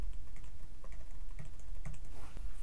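Fingers type on the keyboard of an AMD ThinkPad T14 laptop, producing close, irregular clicking keystrokes in a steady stream.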